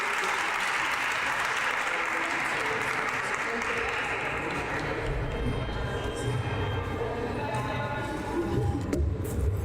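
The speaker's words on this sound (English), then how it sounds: "Let's give our families another big round of applause" A crowd at a press conference gives a sustained round of applause, dense steady clapping that fills the room and carries on for several seconds before thinning toward the end.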